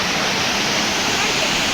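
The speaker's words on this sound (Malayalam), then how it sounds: "ഇതാണ് വെള്ളച്ചാട്ടം കണ്ടില്ലേ ഇതാണ് സ്ഥലം" A waterfall roars as a dense, loud, unbroken rush of falling water, close by and alone.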